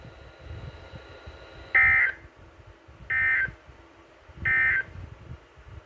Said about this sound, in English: This concludes this week's warning alarm test.